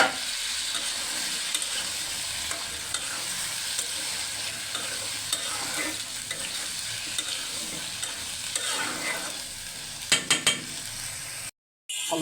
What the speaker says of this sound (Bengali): এখন আলু কষিয়ে নিব আলু